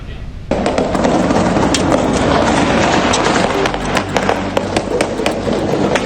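Rapid bursts of gunfire near the Presidential Palace in Indonesia, shooting at an unauthorized drone, crackle continuously in dense, sharp pops over a loud noisy background, with voices mixed in.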